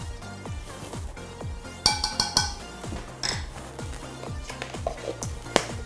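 Dry cookie ingredients stirred in a bowl, giving steady rhythmic scraping and soft clinks of utensil against the bowl, close and moderately loud, with a few brighter metallic taps partway through and no talking.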